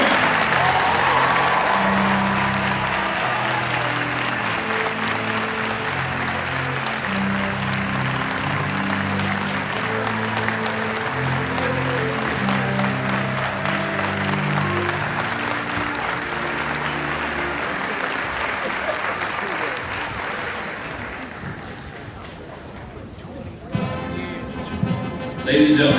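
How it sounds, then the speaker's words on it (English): Sustained crowd applause for an army infantry rifle squad demonstration at an outdoor parade field, loud and steady over a low band playing underneath, thinning toward the end. "please join us in a round of applause for the United States Army Infantry Rifle Squad"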